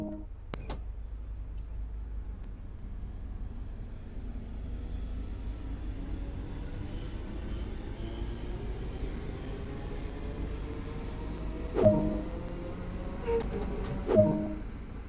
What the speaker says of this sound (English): This train is now ready to depart. Use the throttle to apply power and get moving.